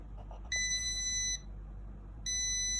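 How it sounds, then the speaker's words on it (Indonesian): Electronic buzzer on a PIR motion-sensor circuit gives two steady, piercing high-pitched tones, the first lasting almost a second and the second starting after a short gap, loud against a faint low hum. "maka akan mendeteksi tidak ada pergerakan dan buzzer berbunyi"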